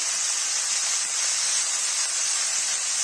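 Broccoli fries in hot oil with a steady, loud, hissing sizzle that holds evenly throughout, with no voices.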